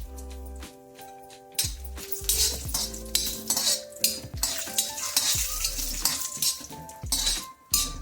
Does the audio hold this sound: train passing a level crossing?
no